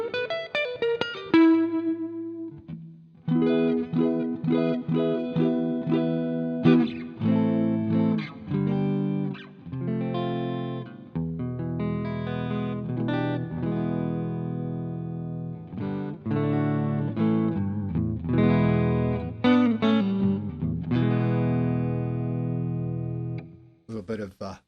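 Electric guitar played through the neck pickup with a green pick, with slight distortion; a chord strum followed by a long run of clear picked notes and chords.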